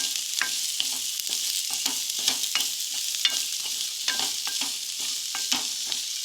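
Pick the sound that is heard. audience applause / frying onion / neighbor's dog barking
frying onion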